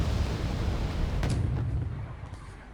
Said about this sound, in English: You can see the artillery on both sides is very strong, but we are also doing some counter-artillery fire.